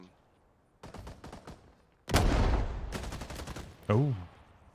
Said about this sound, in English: Full auto AK here.